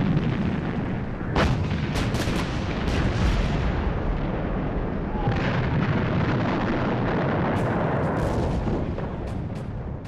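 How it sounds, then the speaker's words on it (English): British artillery bombardment on the Somme in 1916, a dense continuous roar of heavy guns with several sharper blasts standing out, loud and sustained throughout with no voices. "When the British guns opened up on the Somme on the 24th of June 1916"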